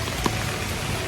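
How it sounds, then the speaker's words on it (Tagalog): Rain falling on a car roof during car camping, a steady dense patter filling the whole moment, close and even, with no voices. "It's raining."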